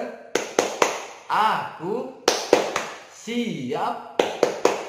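Children and a teacher in a school computer lab doing a rhythmic clapping chant, sharp hand claps in quick groups alternating with sung or chanted words.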